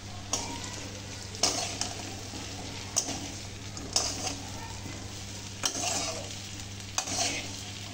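Soybean chunks stirred through a sizzling spiced masala in a pan, a steady fry hiss with periodic scraping strokes of the spoon roughly every second, fairly close and moderate in level over a low steady hum.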